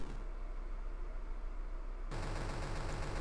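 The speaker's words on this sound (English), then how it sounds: "its mouth opens and it launches its cannon" A boss's mouth cannon fires in the video game Cave Story, a loud sustained burst of rapid, rattling blasts that intensifies abruptly into a harsher, faster barrage partway through.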